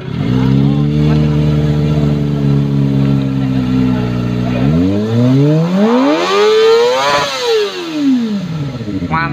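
A Kawasaki ZX25R motorcycle fitted with a TBR full-system exhaust holds a high, loud, harmonic-rich wail, then drops and rises through a sharp rev sweep before settling, close and continuous throughout.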